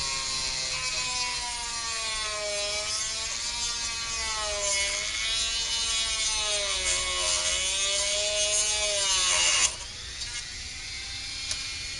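A cutting tool trims a piece off a tunnel with a continuous mechanical whir that wavers in pitch for about ten seconds, then stops abruptly, leaving faint clicks.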